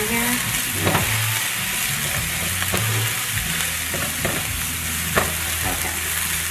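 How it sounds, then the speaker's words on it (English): Cauliflower rice with chicken and turmeric stir-fries in a pan, a continuous loud sizzle with repeated scraping and knocking stirs of a utensil close by, and no voices. "I should have probably rough chopped those a little bit, but hey, stir fry."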